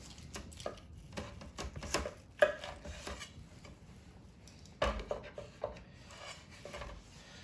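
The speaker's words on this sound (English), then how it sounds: "What I like to do is slice it away from the bone." A knife slices a smoked, sous vide, cast-iron-seared prime ribeye steak away from the bone, giving faint, close cutting and scraping sounds with a few sharper taps on a board.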